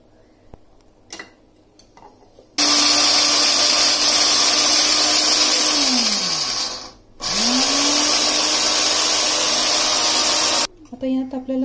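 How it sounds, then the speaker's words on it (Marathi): A mixer grinder whirs loudly at steady speed, blending roasted peanuts, ginger, rock salt and fresh homemade curd. It cuts out briefly mid-run, spins back up, then stops, with speech around it. "परत स्मॅश करून घ्यायचं आहे मिक्सरमध्ये"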